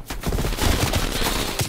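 Bursts of rapid automatic gunfire in a shooter video game, dense and loud, firing almost continuously with a few brief gaps.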